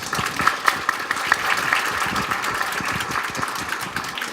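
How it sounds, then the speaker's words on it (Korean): A room full of people at a records management conference in Korea claps steadily, dense and even applause lasting a few seconds. "박수 한번 쳐주세요."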